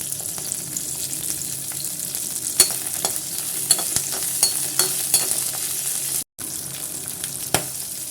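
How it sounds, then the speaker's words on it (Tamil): Shallots, green chilli, ginger and garlic sautéing in hot oil for a vallarai keerai chutney, a steady close sizzle broken by sharp scraping stirs of a spatula, with one brief dropout midway and no talking. "அதே எண்ணெயிலே வந்து இப்போ சின்ன வெங்காயம் சேர்த்துக்கணும் பச்சை மிளகாய் சேர்த்துக்கணும் இஞ்சி துண்டு சேர்த்துக்கணும் பூண்டையும் சேர்த்து நல்லா வதக்கிக்கலாம்"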